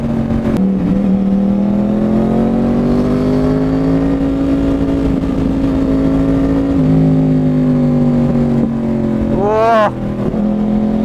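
A Yamaha R1 sportbike with a cross-plane crank engine and Toce aftermarket exhaust pulls hard through Mumbai traffic, its loud, rumbling drone rising steadily in pitch, dipping at a shift, then a sharp rev spike near the end.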